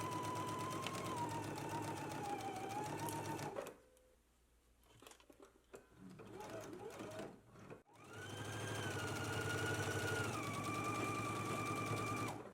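A sewing machine stitches a dress bodice seam in two steady whirring runs, close and clear, separated by a few seconds of quiet handling noises and soft clicks.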